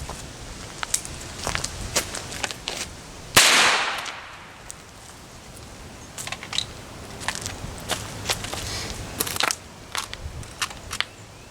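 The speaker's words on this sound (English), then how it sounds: "So let's see if this is actually going to stop a bullet." A single close-range gunshot into a bulletproof vest made of plastic caps cracks out sharply and loud, then fades, surrounded by scattered clicks and handling noises.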